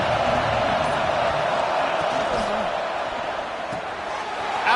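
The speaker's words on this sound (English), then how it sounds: "This crowd ready to make its presence known" A stadium crowd at a college football game roars in a dense, steady wash of cheering and noise, loud and continuous throughout, with faint voices blended into the din.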